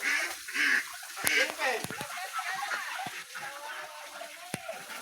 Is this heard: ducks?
yes